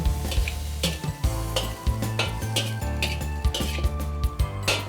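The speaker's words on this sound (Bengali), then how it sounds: "এবার আমি পেনে পাস্তাটা দিয়ে দিচ্ছি।" Pasta tipped into a hot pan of fried chicken and vegetables for garlic chicken, with repeated metal clanks and scrapes of utensil on pan over a steady low sizzle, close and fairly loud, no talking.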